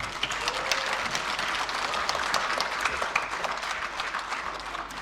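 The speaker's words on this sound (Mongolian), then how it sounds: "Бүгдээрээ ээжүүдийн хэсэгтээ баярлалаа гэж дахин нэг алга таших уу?" An audience at a community celebration evening applauds steadily, a dense, even wash of many hands clapping that holds at a constant level throughout, with no speech.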